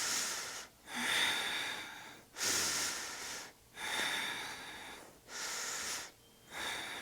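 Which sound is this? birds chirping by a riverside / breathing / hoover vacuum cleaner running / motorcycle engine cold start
breathing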